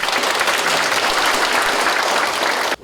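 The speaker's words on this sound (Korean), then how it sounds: "박수를 부탁드립니다." A crowd at a local policy forum breaks into loud, dense applause that holds steady and then cuts off abruptly near the end.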